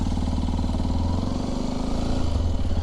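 A Hero Xpulse 210 motorcycle pulls away in first gear, its single-cylinder engine chugging loud and close with a steady throbbing beat that rises slightly as it moves off.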